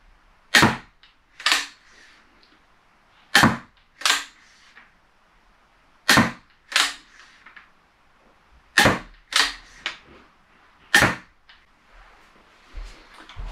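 A Steambow Stinger crossbow with a 35 lb limb fires at small target dots, giving sharp snapping shots with quick thuds in pairs, about eight in all at an even, unhurried pace with quiet gaps between them.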